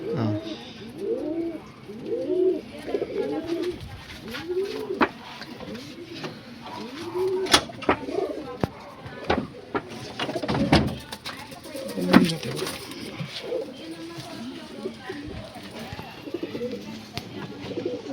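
Old-line pigeons coo repeatedly in soft, rolling phrases, with other bird calls and clicks scattered around them at close range.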